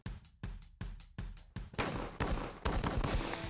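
A Benelli 12 gauge shotgun fires during a dove hunt: four sharp reports spaced about half a second apart, then a denser, louder run of overlapping blasts close to the listener.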